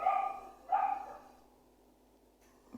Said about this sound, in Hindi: थोड़ा सा कुत्तों की आवाज़ है